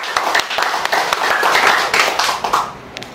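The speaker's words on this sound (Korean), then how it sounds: "유대원 박사님 박수로 환영하겠습니다." An audience applauding to welcome a lecturer at a special lecture, a dense, steady wash of clapping from many hands that swells and then tapers off after about three seconds.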